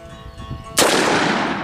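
A single loud Colt Lawman .357 revolver shot fired double action, a sudden sharp boom with a long ringing decay after quiet tonal background.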